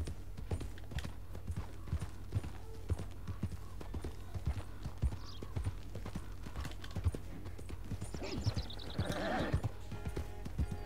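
Galloping horse hoofbeats in Red Dead Redemption 2, a steady rapid clip-clop running throughout with a brief whinny near the end, set against continuous outdoor game ambience.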